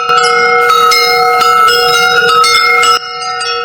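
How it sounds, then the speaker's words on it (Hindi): A loud resonant village bell rings out with a sustained metallic tone and overlapping strikes, cutting off sharply before a quieter ringing tail. "पूरे गांव में घंटी की आवाज गूंजने लगी।"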